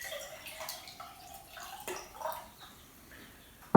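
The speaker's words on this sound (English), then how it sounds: "Like if I take some water and put it into my jar," Water poured from a kitchen container into a glass mason jar, a soft trickling and dripping pour that rises in pitch slightly as the jar fills, faint and close, with no talking.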